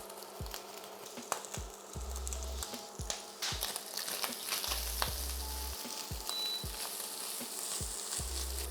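Garlic sizzles and crackles in a pan with sofrito for a lasagne sauce, a steady close frying hiss broken by soft utensil taps and knocks as it is stirred.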